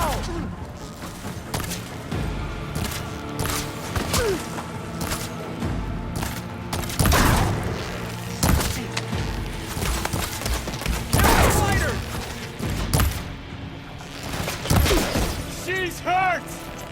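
Weapon fire in Horizon Forbidden West: repeated bursts and heavy impacts punctuate a dense, busy game soundscape throughout, with booming hits around the middle and end, while a voice speaks over the action.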